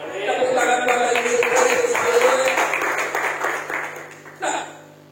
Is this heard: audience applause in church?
yes